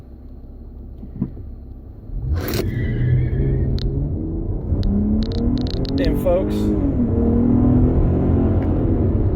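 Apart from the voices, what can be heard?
Dodge Challenger V6 accelerating 0 to 60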